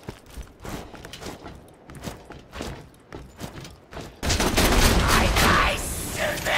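Gunfire in Borderlands as skags are shot: a string of sharp, rapid bursts in quick succession, then a sudden louder, sustained wash of blasts and noise close up.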